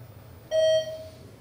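A parking garage elevator gives a single short electronic buzz, a steady tone lasting under half a second and fading out, heard at moderate distance over low background hum.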